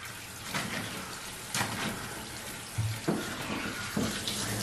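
Water runs steadily from a tap while a towel is rinsed during dog grooming, with a continuous hiss broken by a few splashes and sloshes as the towel is worked under the stream.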